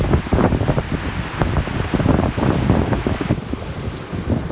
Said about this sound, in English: Yeah, the sea's loud. I hope you can hear my voice over it.